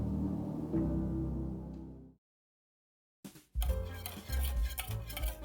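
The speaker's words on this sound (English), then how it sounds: "I'm just gonna whisk this" Homemade butter is whisked in a bowl, giving a busy scraping and clinking rattle that stops for about a second of silence, then resumes louder and choppier.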